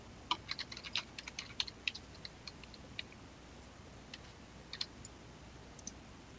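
Quiet, close key taps on a computer keyboard as an IP address is entered, irregular bursts of clicks with short gaps between them.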